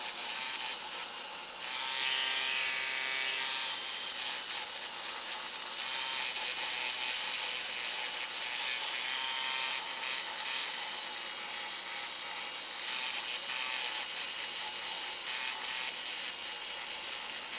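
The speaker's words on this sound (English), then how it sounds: "when I hit different spots and I really start to break that rust free, we actually get like a little cloud that pops up." A wire brush breaks rust free from the metal of a Singer 66 Red Eye sewing machine, producing a steady, close, harsh scrubbing hiss that rises and falls slightly without pause.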